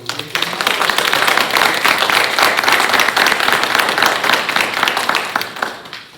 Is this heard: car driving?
no